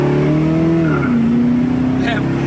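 A 1974 Camaro Z28 engine hums loudly in a steady drone while driving, its pitch dipping and settling as it runs, with a person talking over it inside the car.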